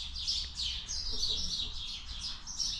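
Small birds chirp and tweet outdoors around a farm yard, a series of quick high repeated calls of moderate loudness over a low background rumble, with no talking.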